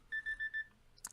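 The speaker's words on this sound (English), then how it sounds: "Well, there's my timer." A timer alarm gives four evenly spaced electronic beeps, quiet and clear, during a break from a video game session, followed by a short soft clatter.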